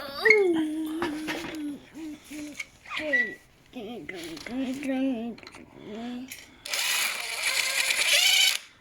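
An impact driver tightens a bolt on an electric CRF motorcycle, a loud sustained whirring rattle lasting about two seconds, coming after several people, including a child, chat nearby.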